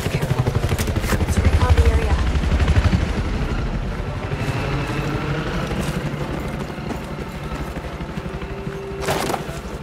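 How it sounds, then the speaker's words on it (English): Attack helicopter roaring loud and steady throughout a Battlefield 4 battle, its rotor thrum dense and close, with scattered sharp bursts of gunfire and brief shouted voices over it. "Watch out. Incoming helo."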